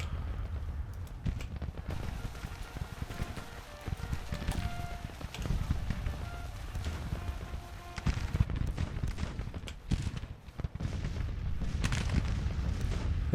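Cannon fire from Civil War artillery batteries, 10-pounders and 12-pounder Napoleons, in a Union campaign strategy game; repeated booms and crackling volleys over a dense, continuous battle din with music.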